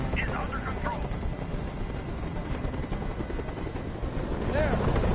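A helicopter in the video game Detroit: Become Human hovers nearby, a steady loud rotor chop and whine throughout, with a voice speaking over it.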